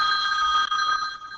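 A telephone rings steadily in an indoor open-mic lunch setting, a continuous electronic bell tone held for the whole moment and fading slightly at the end, with no talk over it.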